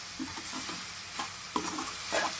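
Andhra-style vada curry being stirred in a pan, a close, faint wet sizzle with soft scraping strokes of a spoon and a few brief knocks, no voices.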